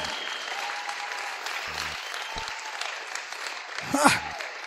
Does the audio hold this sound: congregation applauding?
yes